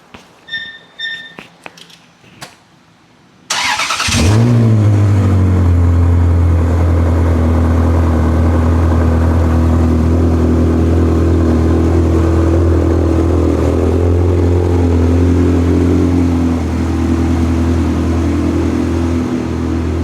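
A few clicks and a brief crank, then an engine catches and bursts to life, settling into a loud, steady rumbling idle with occasional revs.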